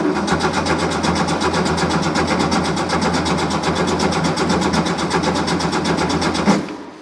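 A classic Porsche 911 engine cranks over steadily as it tries to start, a loud, fast, even chugging of the starter that runs continuously for several seconds before stopping abruptly.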